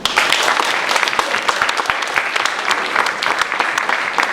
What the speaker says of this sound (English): so I think that's a round of applause.